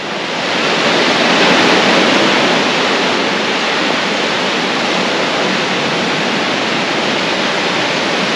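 Water rushing and flowing beside a mountain road in Arunachal, a steady, loud broadband wash that runs continuously from start to end with no talk.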